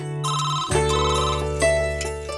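A telephone rings indoors in a Tamil TV serial scene, a clear, loud electronic ringtone with repeating tonal bursts heard alone.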